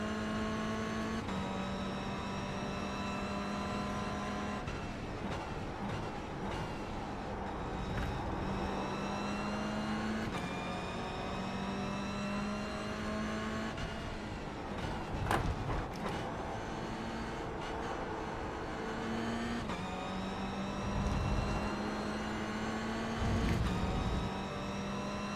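Race car engines in the iRacing video game, a loud droning engine that rises and falls through repeated gear shifts, with other cars whooshing past and occasional bumps.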